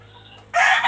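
A broodcock rooster on a farm suddenly lets out a loud, close crow that starts sharply after a quiet stretch of low background hum.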